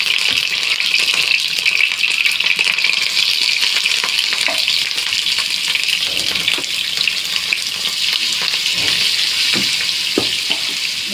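Curry leaves crackle and fry loudly in hot oil along with elephant foot yam, a steady close sizzle with occasional stirring scrapes and no talking.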